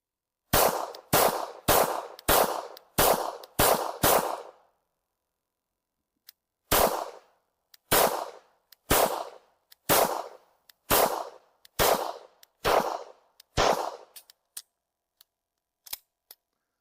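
A SIG Sauer P226 pistol firing two quick strings of sharp, loud shots, six fast reports, a pause, then about eight more with a few faint clicks trailing after, no voices.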